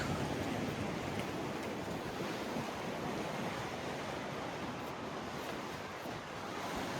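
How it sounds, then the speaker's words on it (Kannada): Steady roar of wind buffeting the microphone on a pier at Panama City, Florida, mixed with a broad rush like surf below, constant and loud throughout with no voices. "ಸ್ವಲ್ಪ ಗಾಳಿ ಜಾಸ್ತಿ ಅನ್ನಿಸ್ತಾ ಇದೆ ಇಲ್ಲಿ ಪಿಯರ್ ಮೇಲೆ"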